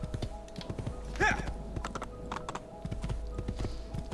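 Horse hooves clip-clop in a quick, steady rhythm while riding in Assassin's Creed II, with a brief whinny-like call partway through and faint game ambience behind.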